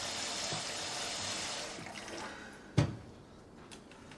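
Water pours into a container in a steady broadband splash that fades out, then a sharp knock or clunk follows, with faint drips and room noise afterward and no talking.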